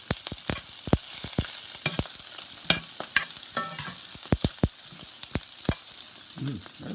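Onions and peppers charring in a hot pan, a soft sizzle under many sharp, irregular clacks and scrapes of a utensil stirring and tapping, close and dry.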